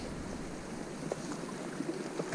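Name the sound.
water flowing under rocks of a boulder field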